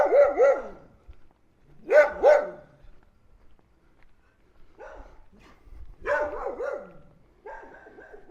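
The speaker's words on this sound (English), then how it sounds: "And guard dogs." Guard dogs bark in short, sharp bursts, several volleys separated by pauses, fairly close and loud with no talking, in Mbombela, South Africa.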